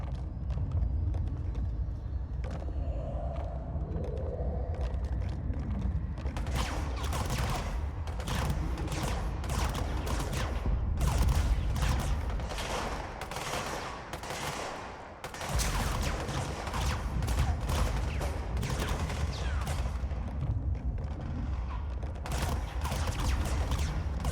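Gunfire from the video game Control comes as dense, sustained bursts of rapid shots with only brief lulls, loud and close throughout.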